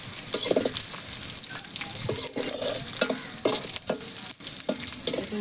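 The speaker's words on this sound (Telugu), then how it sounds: "బాగా స్పీడ్గా కాలుతుందయ్యా బాగా కలబెట్టేస్తాను" Dried shrimp fry with garlic and green chillies in a pan, a constant close sizzle broken by repeated scraping strokes of a spatula as the mix is stirred briskly.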